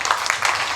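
Congregation clapping in church as worshippers acclaim the Lord, a dense, steady wash of many hands under a reverberant hall, continuous for a brief moment with no clear words.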